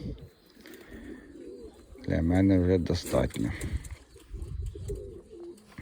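Pigeons cooing in a pigeon loft, soft throaty warbling coos close by, partly under a voice speaking.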